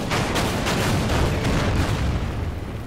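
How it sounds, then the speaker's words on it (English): Destroyers fire naval guns in the WWII strategy game Order of Battle, Operation Torch; heavy booming gunfire rolls on in overlapping, dense blasts that fill the short stretch without pause. "And destroyers shoot back."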